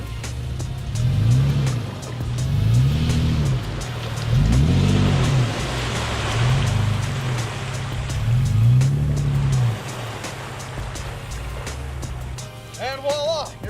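A vehicle stuck in mud in 4 high revs repeatedly in five surging bursts as the tires spin, loud and close, followed by quieter idling, with brief voices near the end.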